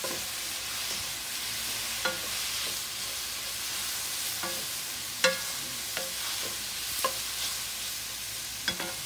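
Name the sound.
stir frying in a hot pan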